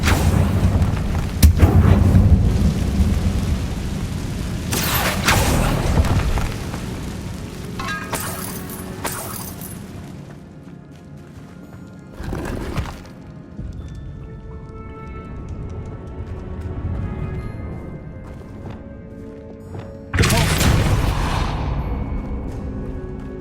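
Confringo explosion spell blasts in Hogwarts Legacy: several loud booming bursts spaced across the stretch, each decaying into rumbling quieter ambience between them.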